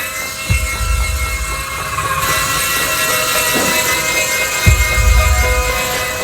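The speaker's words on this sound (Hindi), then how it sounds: "ये हेलीकॉप्टर गार्डन में चलाने के लिए है, घर पर नहीं।" A toy helicopter flying inside a house, a continuous loud whirring motor whine with high tonal buzz, and a couple of deeper low thumps rising under it.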